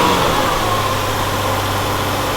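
A Ford Escape with fault code P1506 idling high because of a sluggish idle air valve, giving a loud, steady engine drone close up with no change in pitch.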